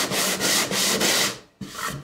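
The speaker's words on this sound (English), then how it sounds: "So I like to go with the grain. I like to keep everything nice and straight. And then I like to graduate down into the grits of my sandpaper." Sandpaper rubbed along the grain of a wooden board being prepared for woodburning, making steady rasping back-and-forth strokes close by, with a brief pause before the next pass.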